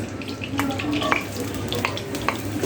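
Chopped onion drops into half a cup of hot oil in a pan, giving a close, continuous crackling sizzle with scattered pops and light stirring sounds.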